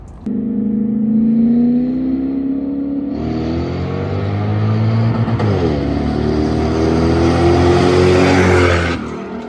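A car engine revs hard at a Kyusha Club Arizona cars and coffee meet. Loud and close, it climbs and falls in pitch through several surging pulls, with no voices.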